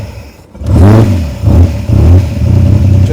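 A 1939 Frazer Nash BMW 328 roadster engine cranks on push-button start with a little choke, catches, and revs in several loud, close rising bursts that settle back to a steady idle between them.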